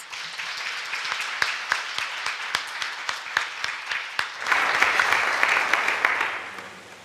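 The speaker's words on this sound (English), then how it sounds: "can we give our graduates a round of applause?" An audience at a beauty college graduation applauds the graduates, with distinct individual claps at first and then denser, louder applause that fades at the end.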